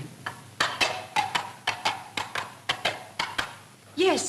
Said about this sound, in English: Yes, it's a horse.